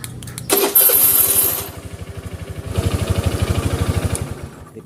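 A motorcycle engine starting through a remote alarm system: a whirring starter crank, a catch, then a close, steady idle with a rapid rhythmic putter that rises slightly after a brief dip.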